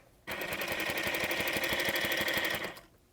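Featherweight sewing machine stitching fabric, a close, rapid, even mechanical rattle that starts abruptly, runs steadily for over two seconds, then winds down and stops.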